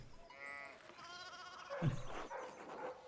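Sheep bleat in the video game Pentiment, a few calls from a small flock that has slipped through a fallen fence rail, heard over a game soundscape with a voice speaking.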